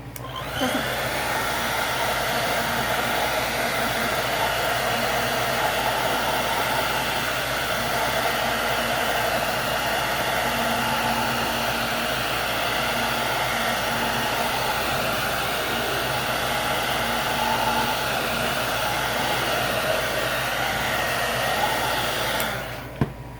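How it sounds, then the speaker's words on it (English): A hair dryer blows steadily at close range, a loud continuous whooshing hum that runs unbroken for over twenty seconds before cutting off. "I'm going to grab my blow dryer and I'm going to give it a little,"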